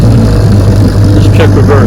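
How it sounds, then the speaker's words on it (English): A small vintage outboard motor idles steadily at low speed close by, with a continuous low engine drone and bits of faint water sound. The idle runs under nearby talk. "Awesome little motor. Like I said, she idles down to nothing."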